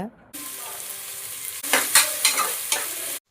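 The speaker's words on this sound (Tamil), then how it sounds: "வெங்காயம் சீக்கிரமாக வதங்கிறதுக்கு தேவையான அளவு உப்பு போட்டுக்கோங்க." Onions sautéing with salt in a pan give a close, steady sizzle, broken by a few louder stirring scrapes and spatula clatters in a short burst with no talking.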